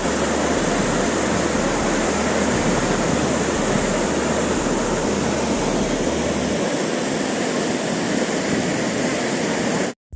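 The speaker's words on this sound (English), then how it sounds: "But you just watch the waterfalls." Athirappilly waterfall in Kerala roars as a steady, loud, broadband wash of falling water close by, unbroken for about ten seconds before cutting off abruptly at the end.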